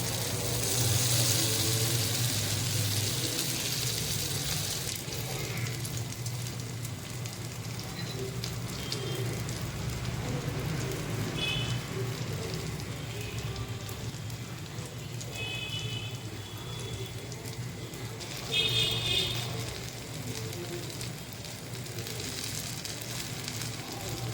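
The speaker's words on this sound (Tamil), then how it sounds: "இப்போது கொஞ்சம் கொஞ்சமாக நம்ம மாவு எடுத்து பணியார சட்டியில் ஊற்றிக்கலாம்." Paniyaram batter is poured into a hot oiled paniyaram pan, giving a steady crackling sizzle that carries on throughout, fairly close and moderately loud.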